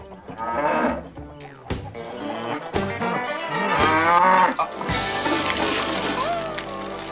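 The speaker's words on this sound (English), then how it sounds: "The one where he's milking the cow." In a scene from the 90s comedy Son-in-Law, a cow being milked lets out several loud, drawn-out moos in close succession, heard up close over other film sound.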